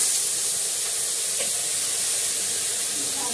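Tomato dropped into a hot pan gives a steady, loud hiss and sizzle that holds unbroken throughout.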